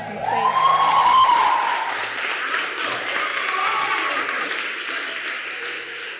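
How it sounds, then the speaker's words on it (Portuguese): A seminar audience in Brazil breaks into broad applause that holds steady for several seconds, a voice briefly audible at the start before the clapping settles into a dense, even wash. "Receba seus aplausos"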